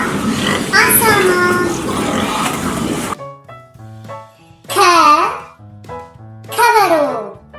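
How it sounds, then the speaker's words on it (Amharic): A pig grunts and oinks in a noisy, close burst for about three seconds. Light music and a voice follow. "አሳማ"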